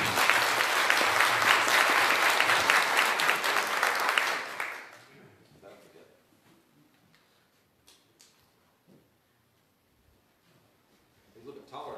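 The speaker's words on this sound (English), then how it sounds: "y'all give him a hand clap." A church congregation at a Youth Sunday service claps by hand in loud, dense applause that stops abruptly after about four seconds. A quiet room with faint scattered noises follows.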